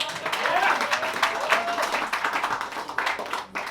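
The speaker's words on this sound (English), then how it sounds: "how about another round of applause for all the comedians you saw tonight?" Applause from a comedy show audience in Philadelphia, a dense continuous patter of many hands with a voice calling out over it, steady throughout and dipping briefly near the end.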